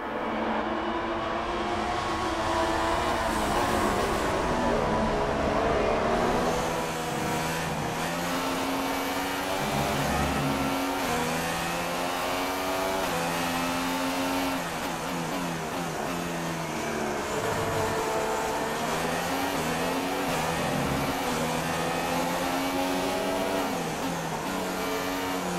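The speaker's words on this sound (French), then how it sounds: "on a laissé le son de cette McLaren Honda pour vous" A McLaren Honda Formula 1 car's engine in the F1 2016 racing game, a continuous high-pitched whine rising and falling with the revs as it races in wet, rainy conditions, with no talking.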